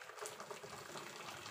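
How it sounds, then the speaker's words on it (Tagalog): Hot water is poured into a cooking pot to steam a bird soup, a brief, faint splashing gush of liquid. "Lagyan lang natin siya ng tubig yan."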